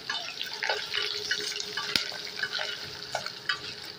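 Curry leaves dropped into hot oil crackle and sputter in a bachelor's PG kitchen, a busy close spitting sizzle with scattered sharp pops and one loud snap, no voices.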